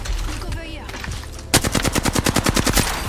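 Rapid automatic gunfire in the video game Apex Legends, a loud, evenly spaced burst of about a dozen shots that starts abruptly after a stretch of muffled game noise.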